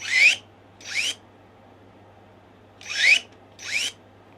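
GTM cordless pruning shears cut into an 18 mm branch, giving four short, sharp motor-driven snips in two pairs with pauses between, close and fairly loud over a quiet electrical hum.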